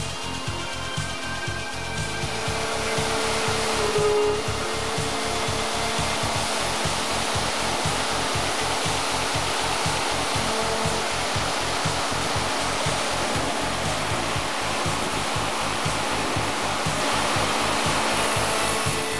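A Hundegger K2 timber joinery machine mills notches into roof rafters with a loud, continuous roaring whoosh and a steady pulsing low rumble underneath, lasting without a break.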